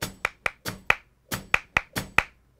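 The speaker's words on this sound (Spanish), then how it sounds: "si podemos hacer las palmas, cuando es a tres, hacemos las de tanguillo" Sharp hand claps in flamenco palmas style, played in a tanguillo rhythm with groups of three, about a dozen crisp close claps that are evenly spaced with brief pauses.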